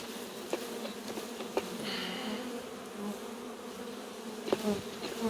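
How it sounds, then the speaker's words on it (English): Honey bees in a Warre beehive buzz steadily after a frame is shaken, a dense, continuous swarm hum with a few louder close fly-bys, outdoors in August. "there are many bees."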